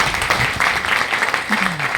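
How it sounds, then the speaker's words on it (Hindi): Audience applause at a business seminar, a steady wash of clapping throughout with a voice briefly speaking over it. "एक बार फिर से इनके जोश के लिए जोरदार ताली।"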